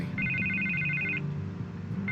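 A telephone rings in Batman: The Telltale Series game: a steady, repeating electronic trill in two bursts, clear over a low hum of background music and ambience.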